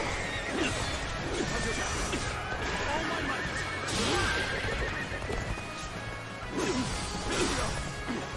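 Horses neigh and whinny amid clashing battle crashes, swishes and hoofbeats in the video game Dynasty Warriors: Origins, a busy, continuous din with several loud whinnies rising above it.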